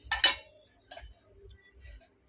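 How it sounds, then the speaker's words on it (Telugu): A metal lid set onto a cooking pot of small-fish curry on a home stove, giving a bright clatter and clink near the start, followed by a few fainter taps and settling rattles. "ఇప్పుడు మూత పెట్టుకుందామండి"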